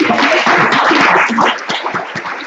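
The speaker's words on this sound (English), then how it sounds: "let's give them all a round of applause" An audience at a parents' and candidates' orientation breaks into loud, sustained clapping close by. The applause runs throughout and eases slightly toward the end.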